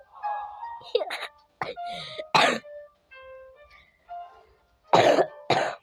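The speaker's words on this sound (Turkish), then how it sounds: "Öksürüyorlar." People cough in a prison escape game, a run of harsh cough bursts spread across the clip, mixed with chiming game sounds and brief tones.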